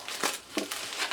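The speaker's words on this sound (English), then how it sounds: "It's wrapped, so we can do more unwrapping." Wrapping is crinkled and torn off an All-Clad LTD 8-inch frying pan, a short close-up rustle with two brief louder crackles.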